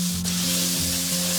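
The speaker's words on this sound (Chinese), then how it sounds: "我们再下入料头，给它爆香" Aromatics stir-fry in a pan of hot oil rendered from pork belly, giving a loud, continuous close-up sizzle with a brief scrape near the start and no voices.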